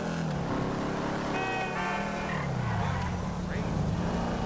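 A car engine runs in GTA 5, a steady revving motor with shifting pitch and a brief tire squeal, heard under someone talking.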